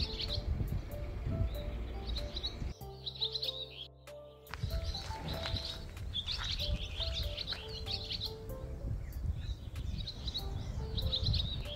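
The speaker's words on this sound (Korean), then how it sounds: "새소리가 정말 좋아요." Small birds chirp and sing steadily around Yangdong Village, a historic hanok village near Gyeongju, Korea, with bright repeated calls through the whole stretch over faint outdoor background noise.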